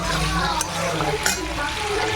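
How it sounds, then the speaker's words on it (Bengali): Onion, potato and meat sizzle and fry in a pan, a loud, steady crackle close by with brief stirring scrapes against the metal. "পেঁয়াজ দিয়ে আলু দিয়ে আর মাংস ভাজা চলছে"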